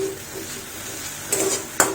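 A spoon scrapes and clinks against a pan while onion-free, garlic-free vegetable momo filling is stirred over a gas flame. A soft cooking hiss runs underneath, with two sharp utensil knocks near the end.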